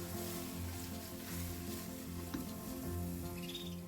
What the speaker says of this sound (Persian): 4 قاشق غذاخوری رب یا پوره گوجه فرنگی بریزید و تا جایی که خامی رب گرفته